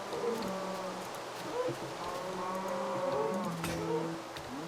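Cattle moo in the video game Minecraft, a few drawn-out lowing calls from a cow, fairly close and clear against soft ambient game noise.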